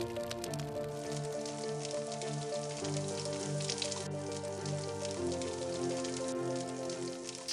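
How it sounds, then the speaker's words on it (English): Sausages sizzle on a coal grill with a steady, bright hiss that runs throughout beneath sustained musical tones. "So I can hear those are actually sizzling away"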